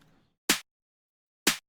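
Two dry, unprocessed 808 snare hits, about a second apart, each short and crisp with silence between them.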